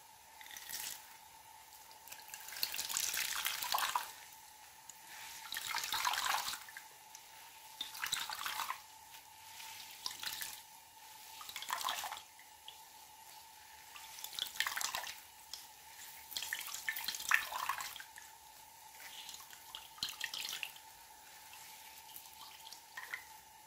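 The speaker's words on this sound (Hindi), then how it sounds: "जो बॉईल की हुई बंद गोभी है ये मैंने कपड़े में डाल दी है और इसके अंदर जो इतना भी पानी है वो मैं निकाल लेती हूँ" Boiled cabbage wrapped in cloth being wrung out by hand, water trickling and dripping in repeated bursts a few seconds apart, close and fairly quiet, over a faint steady hum.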